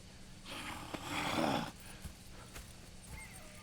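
A horse in Red Dead Redemption 2 whinnies loudly with a breathy, rising neigh, followed by a few soft snorts and hoof-like thumps against a quiet background.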